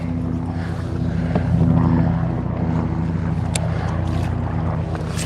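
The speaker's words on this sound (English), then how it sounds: "It's the only reason we ever have helicopters up here is flight for life." A Flight for Life medical helicopter passes overhead above a northern Wisconsin lake, a steady low droning rotor sound rising slightly and then holding, heard from a distance with no talk.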